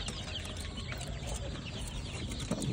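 Several adult free-range KUB village chickens cluck and murmur together in a busy, continuous chorus, fairly close, with no talking.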